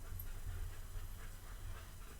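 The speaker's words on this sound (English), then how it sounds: "If you hear some panting, Roxy has come in." A dog pants steadily in a quiet shed, close and soft, with rapid rhythmic breaths throughout.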